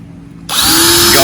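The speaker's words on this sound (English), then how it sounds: "I'll let the drill do the work to go into the metal" After a brief quiet moment, a power drill spins up into a loud, steady whine as it bores a pilot hole into the rusty metal of a Ford Escape's shock tower, close by.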